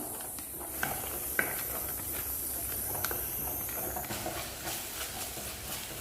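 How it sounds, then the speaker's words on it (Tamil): Tomato, onion and ginger-garlic paste sautéing in oil for crab masala, a continuous close sizzle and hiss with scattered sharp spatters and light utensil taps, no talking. "தக்காளி வெங்காயம் இஞ்சி பூண்டு பேஸ்ட் நல்லா வதங்கி எண்ணெய் பிரிஞ்சு வரட்டும்."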